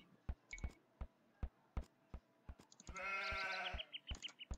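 Sheep in the Age of Empires II video game give one drawn-out bleat amid steady rhythmic clicks and short chirpy game effects, all quiet and close, with no talking.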